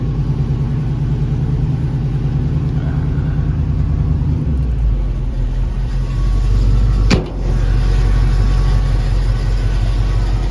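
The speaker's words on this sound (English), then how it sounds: "Nice sounding exhaust." A 1952 Chevy 3100 short-bed pickup with a 327 V8, power steering and power brakes, idles steadily with a deep, loud exhaust rumble, close by, with a brief sharp click partway through.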